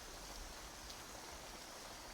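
Steady virtual rain falls in a VRChat game world, a dense, even hiss with no break and no voices over it.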